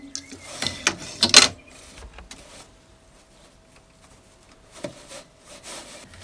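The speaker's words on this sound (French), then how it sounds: "Je serre avec le battant qui écrase la bande, je change de pédale, les fils se croisent" A hand weaving loom making a rag-strip fabric, with a cluster of wooden knocks and clacks as the batten beats the strip, then a quieter stretch and a later thump as the pedal is changed.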